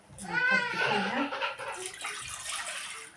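Two cups of water pour and splash into a pot for rice pudding, a rushing wash of sound with a voice briefly audible at the start.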